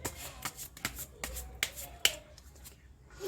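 Tarot cards being shuffled and handled for a reading, with quiet, close riffles and sharp snapping card taps scattered irregularly over a few seconds.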